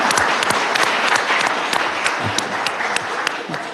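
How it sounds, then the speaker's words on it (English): Dense, sustained applause from an audience at a Milwaukee County Board of Supervisors meeting, many hands clapping together in a loud continuous wash that stays steady for several seconds, close and full, without speech over it. "Let's give Bill a round of applause."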